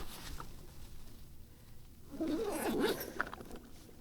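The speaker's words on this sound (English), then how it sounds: "I'm gonna put these gallon Ziploc bags over my feet and put the socks over the top of that." Plastic gallon Ziploc bags crinkle and rustle as they are handled and pulled over feet on a cold day, a close, brief burst of crackling in the middle with quieter handling before and after.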